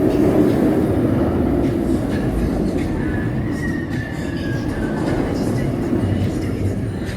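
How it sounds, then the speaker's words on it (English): Banshee, a B&M suspended looping roller coaster at Kings Island, roars past as a steady, loud rolling rumble with a thin wheel squeal rising midway, over a faint murmur of park crowd. "Suspended looping coaster, and I believe it is the longest of its type"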